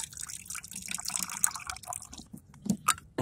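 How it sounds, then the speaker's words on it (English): Liquid from a can of corn is drained off while homemade carp bait is made, giving a light, uneven dripping and trickling with a few sharper splashes near the end. "Get rid of all the corn juice."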